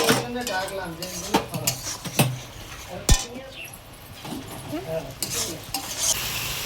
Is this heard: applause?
no